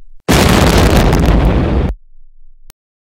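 A massive explosion erupts suddenly, a loud roaring blast with heavy rumble that lasts over a second, then a lingering crackling tail and one final pop.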